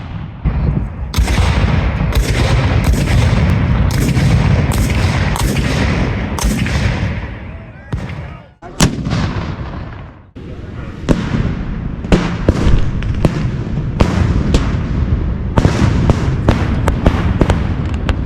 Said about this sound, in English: at around 1 p.m., they all open fire on the Union center.